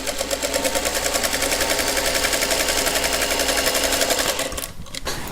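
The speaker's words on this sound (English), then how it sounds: "So I'm just going to flip these over and sew them together" A sewing machine runs steadily, stitching quilt blocks together for a shaded four-patch block. The needle chatters loud and continuous, then slows and stops near the end.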